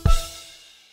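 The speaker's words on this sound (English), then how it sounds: "Claves." Claves are struck once, producing a single sharp, bright wooden click that rings briefly with a clear pitched tone before fading quickly in an otherwise quiet space.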